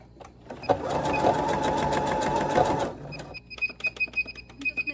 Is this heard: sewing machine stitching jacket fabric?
yes